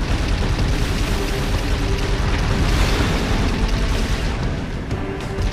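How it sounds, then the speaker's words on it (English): Dense, continuous battle noise from Halo 3, with booms and bursts of shooting and explosions blending into a loud, steady roar that never lets up. "Oh, someone's shooting at me."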